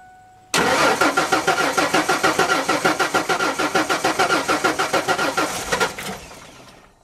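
A 1994 Ford F150 with the 4.9L inline-six cranks over steadily for about five seconds, a loud, rhythmic chugging of the starter with an inline spark tester fitted, then winds down without the engine catching.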